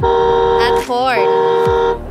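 Horn on a rechargeable HS 788-A kids' ride-on toy dump truck, a loud electronic toot played as a short tune-like sequence with a wavering middle note, close and alone.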